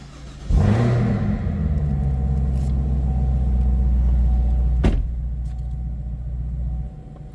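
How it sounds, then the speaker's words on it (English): A 2024 Chevrolet Camaro ZL1 1LE fires up with a sharp crank and a loud revving burst, then settles into a deep, rumbling idle heard up close, with a second blip of the throttle partway through. "Fire it up, so you can hear it run."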